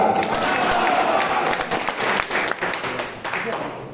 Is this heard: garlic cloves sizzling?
no